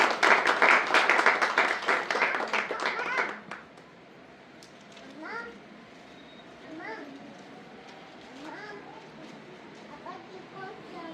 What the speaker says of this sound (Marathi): आपण टाळ्या वाजवून परमेश्वर आभार मानू.